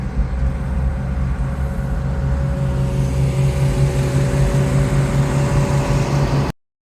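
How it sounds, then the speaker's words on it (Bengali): A Hino RM2 sleeper bus engine drones steadily and loudly from inside the cabin while driving, a continuous low rumble with a humming tone that holds for about six seconds before cutting off. "বাসের কন্ডিশন চলনসই হলেও ইঞ্জিনের নয়েজ"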